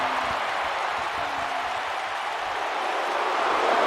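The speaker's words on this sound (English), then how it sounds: "Listen to this crowd." Wrestling arena crowd at a live Monday night main event, a dense, steady roar of booing and cheering that swells slightly toward the end, with no single voice standing out.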